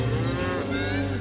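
A cow, away from its herd in Texas, gives one long, loud, low moo close by, with a rising tone partway through and no talking over it.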